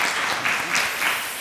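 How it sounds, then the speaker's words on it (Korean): A church congregation applauds at a Sunday morning service, with brief, dense clapping close by that swells and fades slightly. "박수 한번 부탁드리겠습니다."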